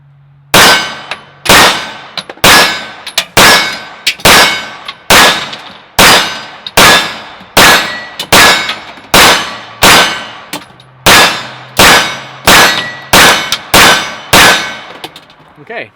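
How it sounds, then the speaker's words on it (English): A CZ75 SP-01 Tactical pistol firing Winchester White Box ammunition, about twenty loud sharp shots in a steady, fairly quick rhythm, each with a short ringing decay, close to the microphone with no talking. "So let's just keep shooting and see if we have any more issues."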